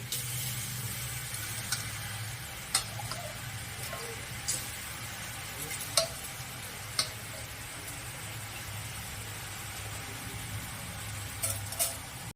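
Gobindobhog rice and dal fry in a pot for khichuri, a soft, steady sizzle with occasional light clicks and scrapes of stirring, heard faintly and fairly close with no talk.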